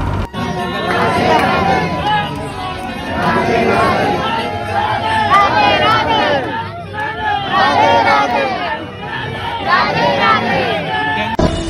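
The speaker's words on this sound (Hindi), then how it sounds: "गाइस बहुत ज़्यादा भीड़ है" Loud, dense crowd hubbub of many overlapping voices fills the Radha Rani temple in Vrindavan, continuous throughout with no pauses.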